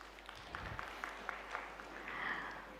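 Audience at a plenary conference session clapping, a soft, even patter of many hands heard from a distance, lasting a few seconds with no one speaking.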